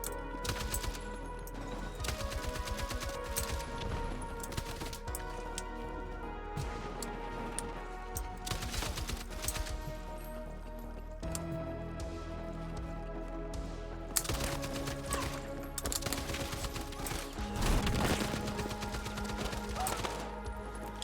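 An M60 machine gun firing in Battlefield 6 during close-quarters play on the Saints Quarter map, with rapid rattling bursts alongside other gunfire and game sounds, fairly quiet overall.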